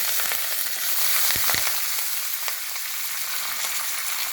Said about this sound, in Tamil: இதெல்லாம் நல்லா தாளிச்சுக்கணும் சவந்திரிச்சு கருவேப்பிலை